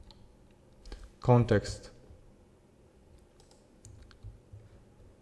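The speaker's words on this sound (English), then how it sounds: "In the search bar we need to type reverso" A short burst of computer keyboard typing while searching in a browser, quick clustered keystrokes near the start, followed by a few faint scattered clicks and a brief spoken word.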